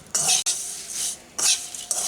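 Flattened rice with a little salt being stirred in ghee in a pan over low heat, bursts of scraping and rustling from the spatula against the metal with a faint sizzle between strokes.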